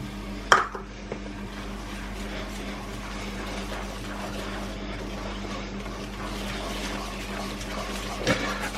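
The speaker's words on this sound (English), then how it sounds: "And all we're doing, we're going to keep adding water." Water being added and rinsed into a fish batter mixture while cooking fish and chips, a low continuous splashing and trickling with a sharp clatter near the start and another near the end, close and fairly soft.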